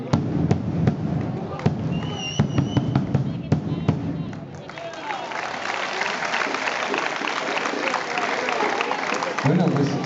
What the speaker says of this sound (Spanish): ¿Queréis saber cómo suena ese bombo?